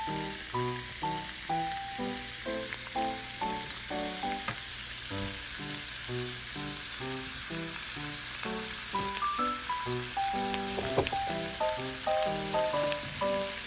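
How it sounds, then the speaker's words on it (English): Mushroom jeon dipped in egg wash sizzles steadily in a pan over low heat, a soft, continuous frying hiss running beneath melodic background music, with no talking. "Lightly dip only the bottom side in egg wash and cook over low heat."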